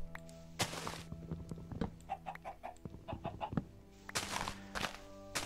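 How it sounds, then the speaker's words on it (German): Minecraft chickens cluck and squawk in short bursts, with a few louder cackles and soft thuds and footsteps between them. "Hallo Hühner."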